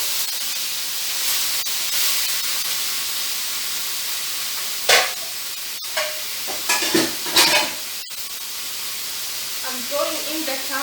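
Vegetables and cabbage stir-fry in a hot pan for a beef dish, a constant close sizzle broken by sharp scraping and tossing bursts from the utensil in the middle and later part.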